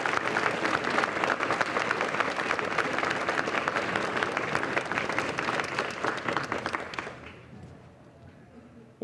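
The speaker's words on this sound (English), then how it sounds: "I think Cap deserves a hand of applause." Crowd at a 1985 launching of a 52-foot passenger vessel built at Washburn and Doughty applauds warmly for several seconds, then the clapping drops away abruptly, leaving near quiet.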